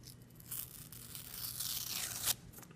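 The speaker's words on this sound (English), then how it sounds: "Now we're going to take off the painter's tape," A long ripping, tearing sound of painter's tape peeled from a surface, building gradually and ending with a sharp final pull, close up and without talk.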